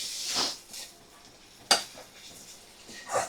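Lemon-free chicken pieces tossed with spices in a pan, stirred with a utensil that gives a few sparse scrapes and clinks against the metal, including one sharp knock midway, close and quiet with no talking.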